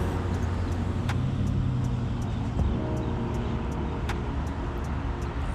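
Steady stream of cars rolling through a busy roundabout, a non-stop intersection where traffic keeps moving, producing a continuous moderate road rumble with brief louder passes and no talking.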